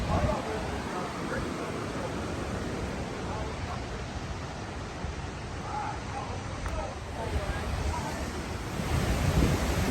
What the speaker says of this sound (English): And now we arrive at the falls, and boy, it does not disappoint.